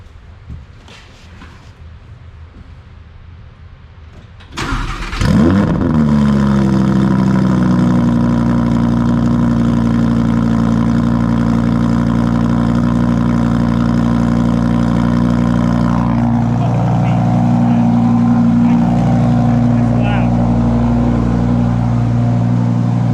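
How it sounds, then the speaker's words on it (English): A 2017 Lamborghini Huracan engine with a straight-pipe race exhaust fires up with a sharp bark, then settles into a loud, steady idle with a deep rumbling exhaust, close by and continuous. "now it's time for the fun part, the startup"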